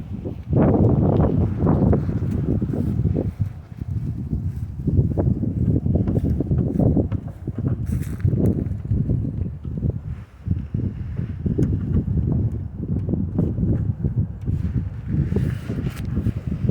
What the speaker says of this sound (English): Got some wind picking up